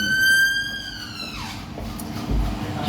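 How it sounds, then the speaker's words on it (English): An ambulance siren passes by outside, its steady high wail sliding downward in pitch as it moves away, then fading into background hum. "It wasn't your ambulance that drove by."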